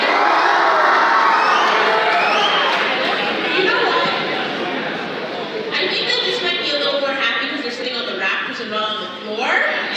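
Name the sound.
audience cheering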